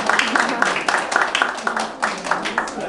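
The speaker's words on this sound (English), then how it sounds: "Okay, clap your hands" Children and adults clap hands at a preschool entrance ceremony, a steady patter of many hands with irregular louder bursts, continuing evenly for a few seconds at close range.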